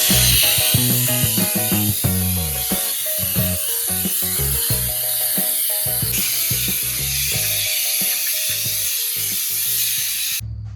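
Compressed air blasting dust off a stripped 1979 Plymouth Volare wagon after grinding, before paint: a loud, continuous hiss with bursts of rattling and mechanical clatter close by, running unbroken for several seconds with no speech.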